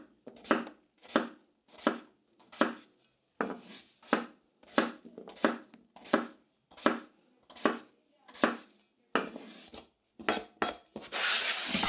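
Knife slicing peeled potatoes into thin slices on a board, a steady series of about sixteen crisp cuts with brief scraping after each, close and clear, ending in a louder rustling swipe.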